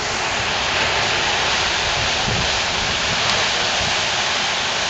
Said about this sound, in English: This is the beautiful Pacific Ocean.